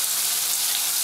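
A short, steady hiss of an aloe spray bottle misting a pet bird during bath time, continuous and close for about a second.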